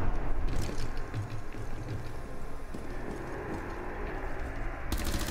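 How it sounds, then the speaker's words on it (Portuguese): Gunfire from the video game Rainbow Six Siege during a ranked match, a dense run of rapid shots and impacts with a sharp burst near the end, no voices. "Acertei tiro nela e ela acertou em mim."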